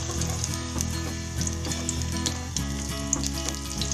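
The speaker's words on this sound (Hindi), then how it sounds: "प्याज को मैं अच्छे से फ्राई कर दूंगी" Onions fry in hot oil in a cooking pot, a loud, steady crackling sizzle that fills the whole stretch, with light utensil taps and a constant low hum behind it.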